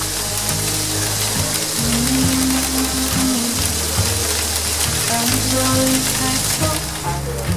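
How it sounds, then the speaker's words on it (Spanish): Heavy rain mixed with hail pounding on a mountain refuge near Góriz in Ordesa, a loud, continuous dense patter of drops and ice striking the roof, with a low musical drone underneath. "Llueve mucho y graniza."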